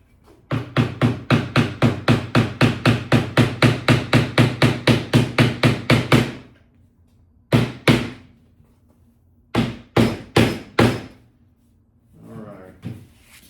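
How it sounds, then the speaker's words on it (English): Rapid, steady hammer blows ring out in a long run as nails are driven into a canvas print frame, then a few separate strikes after a pause, close and loud. "I'm going to get a hammer and hammer these in all the way."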